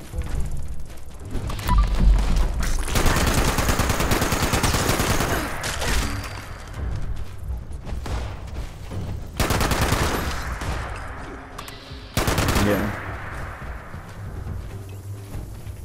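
Sustained automatic gunfire in Fallout 76, loud rapid bursts with mechanical clatter, broken by short pauses and renewed volleys, with no talking.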